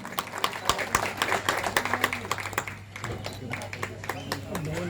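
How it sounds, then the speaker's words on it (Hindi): An audience applauds to welcome guests at a ward councillor's inauguration event. Many quick, dense claps run throughout, with a voice on a loudspeaker over them. "जोरदार तालियों से स्वागत कीजिए"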